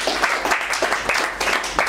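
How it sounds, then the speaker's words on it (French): A crowd applauds at a gathering of young priests with a religious leader, steady moderate clapping in irregular pulses filling the whole moment. "Est-ce qu'on peut applaudir encore?"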